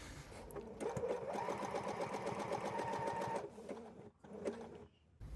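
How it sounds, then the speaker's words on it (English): Sewing machine running a zigzag stitch in place with no stitch length to form a bar tack on a kangaroo pocket, a rapid rhythmic rattle for about three seconds, then stopping with a few softer clicks and a brief restart. "I'm on a zigzag stitch, but with no stitch length at all, so the feed dogs won't travel the fabric along"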